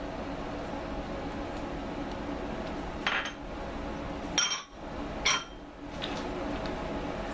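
A spoon scraping and clinking in a bowl as oatmeal and flour are stirred into dandelion cookie batter, a few short clinks over a steady low kitchen background.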